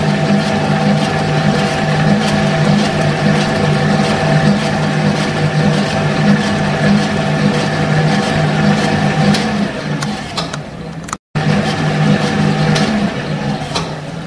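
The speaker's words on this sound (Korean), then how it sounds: "2단으로 돌려서 거품체를 좀 치밀하게 만들어 보도록 하겠습니다" Electric mixer at speed two whipping rice-flour sponge cake batter, a loud, steady motor whir heard close and continuous, cut by one very short gap near the end.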